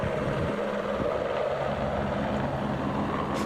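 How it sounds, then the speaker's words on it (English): A helicopter scooping water during wildfires in France, its rotor and engine giving a steady, loud, whirring roar with no distinct pauses, heard alone without talk. "so this helicopter tried to scoop up some water."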